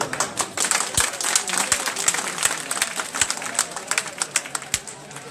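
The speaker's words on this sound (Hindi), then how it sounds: "अपने लिए तालियां बजा रहे हैं।" An audience at a political workers' meeting in PIB Colony claps for itself, a dense, lively patter of many hands close by with some sharp individual claps, continuing steadily with no talk.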